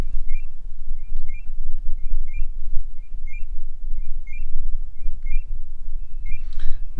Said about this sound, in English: Pre-alarm sounds.